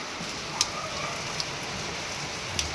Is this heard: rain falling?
yes